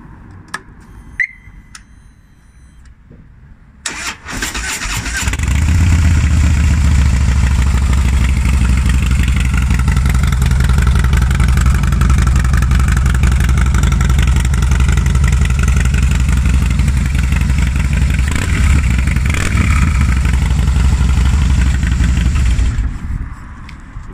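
Custom Harley-Davidson Softail Slim S motorcycle starts after a few seconds of quiet, then settles into a loud, close, steady idle rumble that stops near the end.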